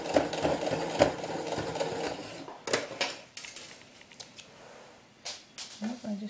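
A sewing machine stitches a sheepskin doll vest in short, uneven runs, fairly close but moderate in level, with pauses and small handling clatter between bursts.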